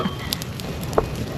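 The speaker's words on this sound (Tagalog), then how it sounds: "Ayun, malaking sunog." A large fire burns through a house-like pile of trash outdoors, a steady low roar with scattered soft crackles and one brief pop, moderately loud and close.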